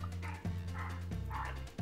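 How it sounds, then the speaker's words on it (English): A dog barks in three quick, evenly spaced yaps, close and clear over a low constant hum, with no talking in between. "you got a dog in there?"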